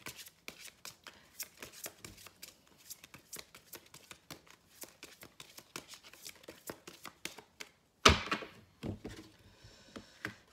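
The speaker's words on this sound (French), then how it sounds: "je vais tirer une carte de l'oracle de la spiritualité." Oracle spirituality cards are shuffled in quick, dry riffling bursts at close range, then a louder slap and slide as a card is drawn near the end.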